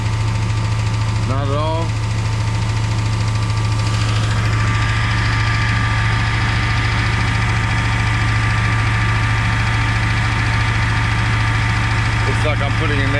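A car engine runs loud and close at a steady, heavy rumble with a constant drone and no clear rise in revs, as someone says a few words over it.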